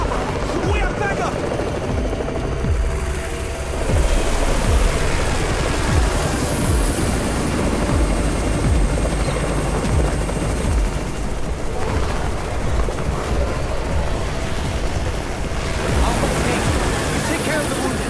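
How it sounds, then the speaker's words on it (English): A helicopter flies overhead in the zombie video game Undawn, its loud chopping rotor rumble sustained throughout with gunfire-like cracks in the mix, while voices talk over it. "It's the Raven's chopper!"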